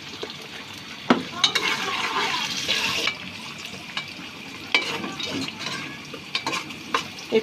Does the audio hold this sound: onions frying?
yes